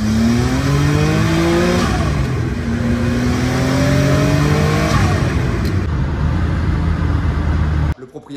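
A Venturi 400 Trophy sports car with a 408 hp engine revs loudly and close by, its pitch rising and falling through several long pulls before cutting off sharply near the end.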